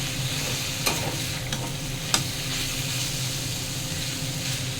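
Red amaranth greens fry in a pan with dried red chili, garlic and chopped onion, a constant close sizzle with a few sharp stirring clicks.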